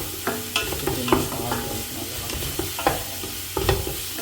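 Masala for an Andhra-style fish curry frying in oil, a continuous close sizzle broken by repeated scrapes and knocks of a spoon stirring the pan in an irregular rhythm.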